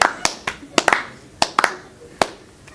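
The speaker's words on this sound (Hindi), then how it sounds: "अब ताली चाहिए." A handful of sharp, separate hand claps ring out in an irregular pattern on the set of a comedy cooking show finale, loud and close, with no one talking over them.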